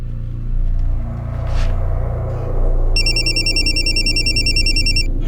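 Mobile phone ringing with a steady electronic ringtone pattern over a low background rumble, fairly loud and close, with no talking.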